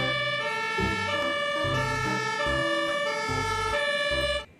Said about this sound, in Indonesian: mobil pemadam kebakaran atau water cannon